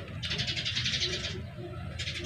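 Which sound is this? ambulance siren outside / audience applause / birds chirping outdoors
birds chirping outdoors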